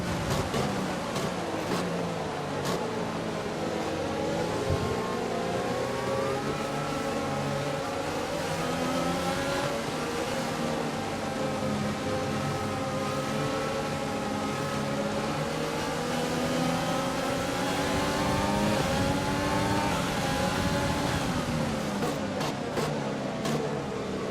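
Formula 1 race car engine in F1 2020 on a formation lap in Spain, a sustained high-pitched whine that rises and falls as the car weaves and revs, steady and loud throughout with no talk.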